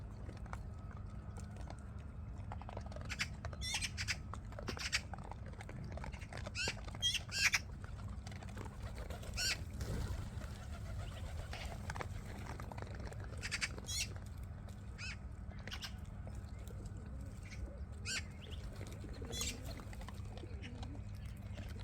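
Birds squawk and chirp in scattered bursts while feeding over a steady low rumble, with occasional wing flaps and pecking clatter; outdoors in a forest after rain, no talking.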